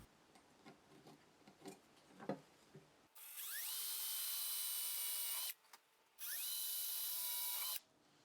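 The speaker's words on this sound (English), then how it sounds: "We'll start by marking and drilling new pilot holes for the screws." A power drill boring pilot holes in a wooden chair frame: a few light taps and clicks, then two long steady whining bursts of drilling with a short pause between, loud and close.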